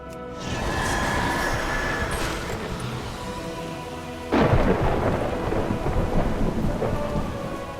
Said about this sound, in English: Crack of thunder.